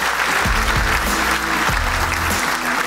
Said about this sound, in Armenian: որ բարձր ծափ արեք